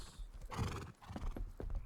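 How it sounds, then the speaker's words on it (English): Horses in a stable in the game Rust neigh and snort, with hoof clops and shuffling mixed in, close and fairly loud over a short burst of activity. "We have our 7 horses in here."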